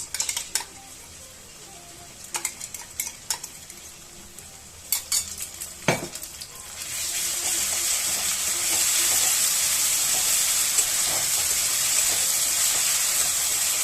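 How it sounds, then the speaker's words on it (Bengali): Ginger, garlic and green chili paste frying in oil after onions, starting with scattered metal utensil clinks and scrapes, then a loud, steady sizzle that swells and holds close up. "এটা একটু ভাজা ভাজা করে নেব, এই কাঁচা গন্ধটা যখন শেষ হয়ে যাবে"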